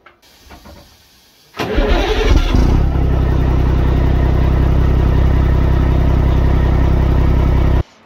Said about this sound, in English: This is sound recording for ERF M11 Cummins starting wheel arch video.